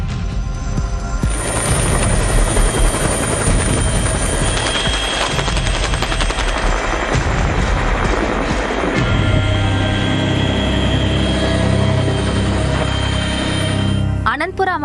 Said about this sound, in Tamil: இலங்கை ராணுவத்தினர் ஹெலிகாப்டர் மூலமாக மீட்டு வருகின்றனர்